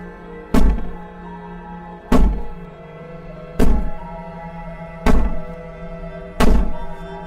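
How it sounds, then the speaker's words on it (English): Heavy door in a video game banged violently from the other side, five loud, evenly spaced thuds about one and a half seconds apart, each with a short rattling decay, over a quiet ambient hum. "As she violently rattles the door"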